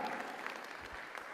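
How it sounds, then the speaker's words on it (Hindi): Audience at a Hindi stand-up comedy show in Bangkok claps steadily, a dense, moderately loud patter of many hands filling the short moment. "आप लोगों को तालियां बजानी ही होंगी"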